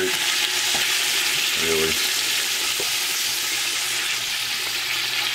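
Beef searing in a hot pot for Irish stew, a loud continuous sizzle with a few scrapes and knocks of stirring, and a brief word spoken over it.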